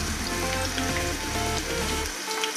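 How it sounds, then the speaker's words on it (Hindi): Mutton koftas frying in hot oil in a pan, a loud steady sizzle and crackle that holds throughout, close and uninterrupted by speech. "कोफ्ते हमारे फ्राई हो चुके हैं। इनको अब निकाल लेते हैं।"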